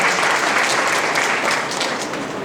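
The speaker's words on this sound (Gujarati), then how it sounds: "આપણે તાળીઓના ગડગડાટથી વધાવીએ" An audience at a prize-distribution ceremony at Amroli College claps loudly and steadily, a dense burst of applause that tapers off slightly toward the end.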